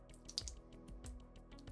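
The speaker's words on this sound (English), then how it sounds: "turn the flow valve on to start the flow of water." Water trickling from the flow valve of a LifeSaver Liberty filter bottle, faint irregular drips and splashes at close range, with no talking.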